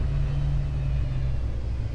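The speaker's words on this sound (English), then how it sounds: "Well, there's another little sky car." A small flying sky car passes in the Space Engineers 2 game, a steady low engine rumble and drone that stays close and even for the whole stretch.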